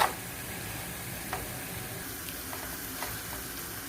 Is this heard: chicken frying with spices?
yes